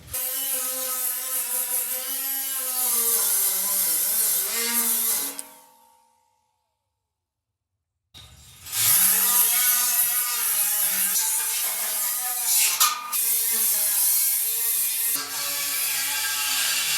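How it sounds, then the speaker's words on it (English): A wire wheel grinds rust off metal on a barn-find VW Beetle, a loud, steady whine that cuts out for a couple of seconds, then resumes with shifting pitch as the wheel bears against the part. "we got this cleaned up pretty good with the wire wheel"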